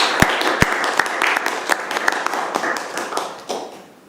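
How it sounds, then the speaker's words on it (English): A scattered round of clapping for students at a medical device design elevator pitch event, with sharp isolated claps standing out over a thin patter that gradually fades away. "we'd like to give a round of applause to all of our great students here today."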